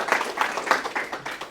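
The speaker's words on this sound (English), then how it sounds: "Thanks for the applause." Audience applause at a wealth-building kickoff event in Philadelphia, a steady crowd of clapping hands filling the room with dense, bright patter that swells and eases slightly over a short stretch.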